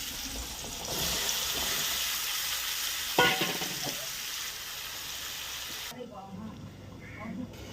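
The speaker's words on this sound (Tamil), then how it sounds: "உப்பு, மஞ்சத்தூள், மிளகாத்தூள், சிக்கன் 60 மசாலா போட்டு வெறும் ஆயிலில் போட்டு அப்படியே ஃப்ரை மாதிரி பண்ண போகிறாங்க" Potatoes with salt, turmeric, chili powder and chicken 65 masala frying in plain oil, a soft continuous sizzle with a brief stirring scrape partway through, fading into quieter hiss and faint background sounds near the end.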